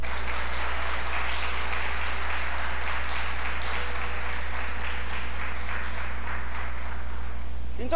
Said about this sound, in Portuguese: Você pode aplaudir o nome do Senhor nessa noite?